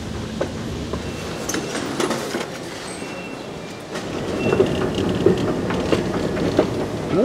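A London Underground train pulls out of Embankment station, its wheels rumbling and clattering steadily along the track with brief squeals. The noise grows louder in the second half as the train gathers speed.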